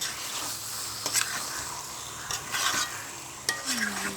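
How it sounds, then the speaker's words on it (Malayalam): Chicken pieces are stirred and fried in a cheenachatti pan with tomato and paste, a soft steady sizzle under intermittent scraping and stirring strokes, close to the mic and without talk. "അതിലേക്ക് ചിക്കൻ പീസ് ഇട്ട് കൊടുക്കുക. നല്ലവണ്ണം ഇളക്കി കൂട്ടുക."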